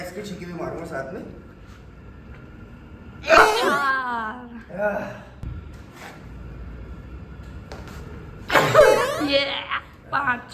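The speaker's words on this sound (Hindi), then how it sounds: "मैं इसकी छींके भी मारूंगा साथ में।" Two loud, sharp sneezes after sniffing sneezing powder, one near the start and another late, with someone talking, sniffing and laughing in between.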